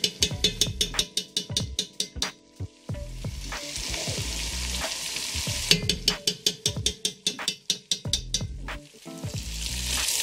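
Tomato paste cooking at medium-high heat in a stew pot for vegetable beef stew, a steady close sizzle and fry broken by repeated rhythmic bursts of stirring and scraping, loud and continuous with no talking.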